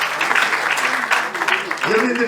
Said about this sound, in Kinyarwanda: Amashyi menshi cyane rero.